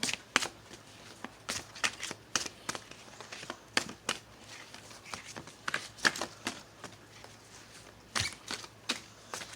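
Repeated crisp riffling and soft slaps of cards being shuffled, in irregular bursts against a quiet room hum.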